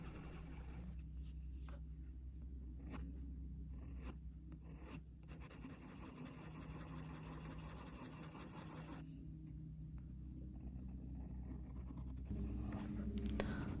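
Colored pencils scratching across mixed media paper, soft grainy strokes in short bursts and longer runs, close and quiet over a low steady background hum.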